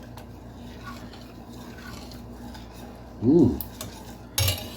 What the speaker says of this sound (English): Now, let's stir this around.